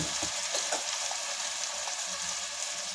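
Capsicum pieces with onion frying in a pan while being stirred, a dense steady sizzle close up with soft scraping strokes, no talking.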